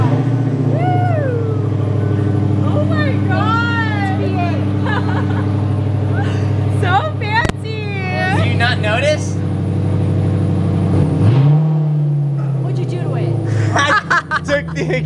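A car engine with its exhaust removed, a loud raw drone that rises and falls in revs, with people talking and laughing over it nearby.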